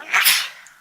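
A single sharp sneeze cuts through a city council committee meeting, loud and close to the microphone, a quick airy burst that fades within a second.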